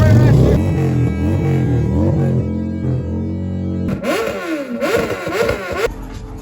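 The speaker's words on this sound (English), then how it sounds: "I don't know why they rev so much." A motorcycle engine revving loudly nearby, its pitch rising and falling in repeated throttle blips over a steady idle.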